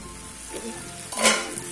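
Mixed vegetables with spices cook in a kadhai, a faint steady sizzle with a couple of soft metallic clinks, the second a brief lid-like knock followed by a louder burst of hiss.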